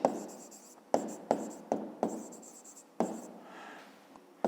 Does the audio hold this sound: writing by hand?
yes